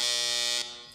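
A loud, harsh electronic quiz show buzzer with a bright, steady tone sounds for about half a second, then cuts off, leaving a fading ring.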